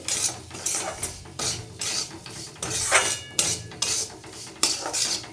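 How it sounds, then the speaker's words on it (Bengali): Semolina frying in oil for gujiya, stirred with a utensil against the pan in quick repeated scrapes and clinks over a low sizzle, close and unaccompanied. "এবারে তেলের মধ্যে সুজিটাকে দিয়ে দিচ্ছি। সুজিটা ভালো করে ভেজে নেব"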